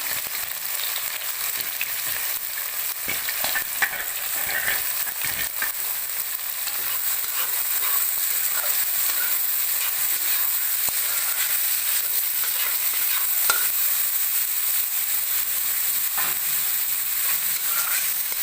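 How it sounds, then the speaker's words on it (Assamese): Onion and bay leaf frying in a pan for a butter chicken gravy, giving a steady, close sizzle and hiss that runs the whole way through, with occasional stirring clicks and no talk. "এতিয়া মই গ্ৰেভিখিনি বনাম আৰু ইয়াৰ কাৰণে পিঁয়াজ এটা তেজপাত"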